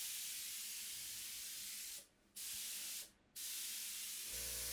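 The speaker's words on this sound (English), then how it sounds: "Once I had my paint sprayer all set up and ready to go, I started spraying this top coat." A paint sprayer applies top coat to a thrift-store dresser in a steady, close airy hiss, broken by two short pauses as the trigger releases, then a low hum at the end.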